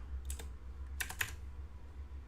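A few quick keystrokes on a computer keyboard, two short clusters of clicks separated by a pause, close and fairly faint over a steady low hum.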